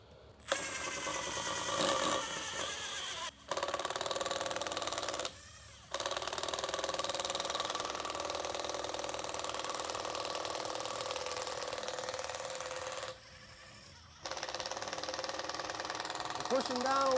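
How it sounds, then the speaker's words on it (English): Makita impact driver in mode 1 sinking a screw with no pilot hole, a steady whirring, ratcheting impact sound running loud and close for most of the span, broken by a few short pauses between bursts. "I'll probably start it, it'll probably impact it a couple times and start, but this is mode 1"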